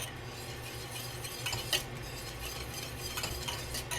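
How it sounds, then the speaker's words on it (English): A whisk stirring a thickening milk mixture in a pot on the stove, a continuous soft scraping and clinking with a few sharper metallic taps against the pan. "So be sure to constantly whisk this."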